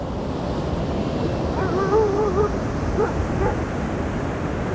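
Ocean waves wash in a steady broadband roar with wind across the microphone, and a dog barks a few times partway through.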